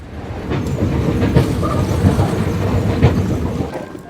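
Barcelona metro train rolling along the track, a loud, steady rumble with rhythmic wheel clatter heard from inside the carriage, no voices.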